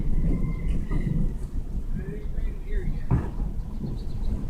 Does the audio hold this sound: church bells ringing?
no